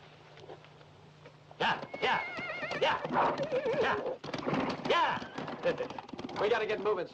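Horses whinny several times in a western setting, shrill wavering neighs rising loud and close after a quiet opening, with other noises mixed in.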